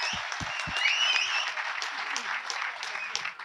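An audience at a live comedy show claps steadily throughout, a continuous wash of applause after a few close thumps at the start, with faint talk mixed in.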